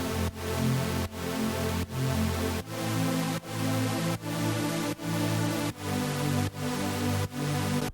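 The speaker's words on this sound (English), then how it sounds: "The sound I'm going to create is called a super saw." Supersaw synth chords built from a saw wave with stacked unison voices in Serum, loud and sustained, changing chord on a steady rhythm about every 0.8 seconds with no voices over them.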